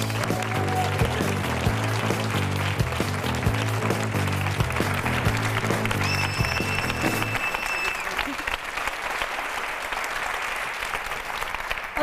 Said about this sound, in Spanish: Un aplauso para Usun Yun.